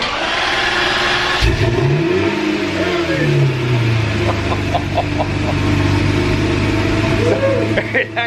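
A Lamborghini Murcielago with a freshly rebuilt engine cranks and fires on a cold start, roaring up in a loud flare before settling into a high idle, with a few sharp blips of the throttle near the end.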